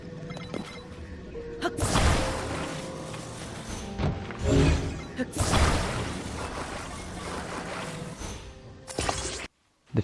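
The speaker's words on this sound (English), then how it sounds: "The sound of sticking objects together with Ultra Hand" Ultra Hand sticking objects together in The Legend of Zelda: Tears of the Kingdom, a layered burst of clanking, whooshing game effects with several loud hits, ending in a brief silence and a final thump.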